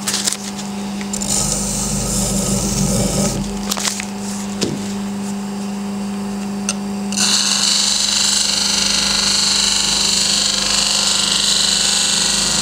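A Kurt Koch HT4004 sharpening grinder hums steadily while a well-used carpentry chisel is pressed against the wheel, with a grinding rasp and a few short knocks, and the tone shifts brighter midway.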